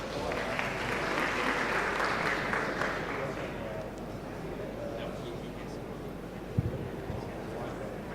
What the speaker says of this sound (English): Could I have a big round of applause, please?